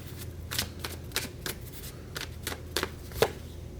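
Tarot cards being handled and shuffled for a reading make a series of crisp, close riffling bursts roughly every half second, with no voice over them.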